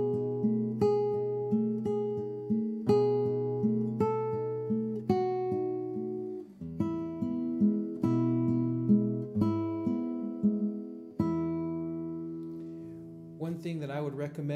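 A classical guitar plays the closing passage of Spanish Romance as clear plucked arpeggios at a steady, flowing pace, close and moderately quiet. It ends with a brief scrape of string noise.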